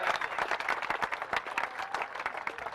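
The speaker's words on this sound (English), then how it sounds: "Folks, Danny Smith, what about a round of applause for him?" A crowd applauds at the presentation after the 2002 Warrnambool Grand Annual Sprint Car Classic speedway feature race, dense steady clapping from many hands filling the whole short stretch.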